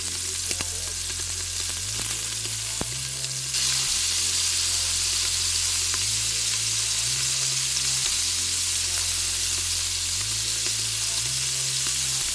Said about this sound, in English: take that chuck roast that we had earlier and sear it off on all sides